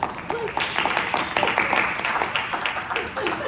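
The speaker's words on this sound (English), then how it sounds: "Can we give them a round of applause?" An audience at a Goodhue County political gathering breaks into dense applause for state legislators, with clapping and a few cheers near the microphone, partly under talk.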